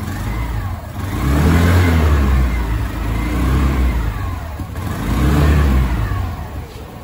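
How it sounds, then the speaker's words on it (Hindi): A Hero Xoom 110 scooter engine revs up and settles twice through its exhaust, a smooth mid-pitched whir swelling and easing in a slow rhythm, close by and loud, with no talking. "इसका आप लोग एग्जॉस्ट का साउंड अब एक बार सुन लीजिए"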